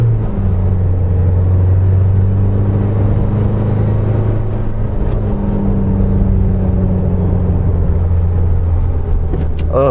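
An Isuzu D-Max 4x2 Auto Plus pickup, driven in manual mode in second gear, gives a loud, steady engine drone and rumble that climbs as it revs, with continuous road noise throughout and no talking.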